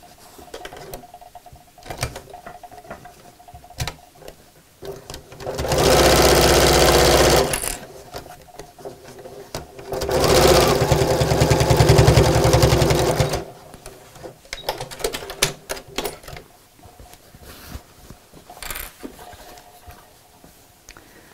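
Sewing machine stitching binding onto a tote bag, running in two steady buzzing bursts of a few seconds each, separated and surrounded by quieter handling sounds.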